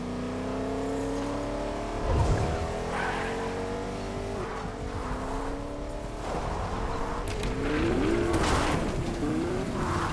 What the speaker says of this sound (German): wir fahren mit dem Whiplash hier raus